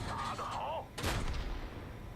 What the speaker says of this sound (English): We got saved there by our artillery.